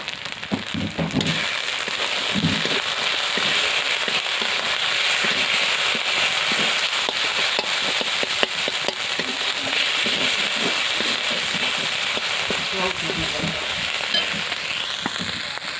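Onion with ginger, garlic and cumin paste sautéing in hot oil for a fried tari fish curry, a loud, steady, dense crackling sizzle that carries on without a break, with the occasional scrape of stirring.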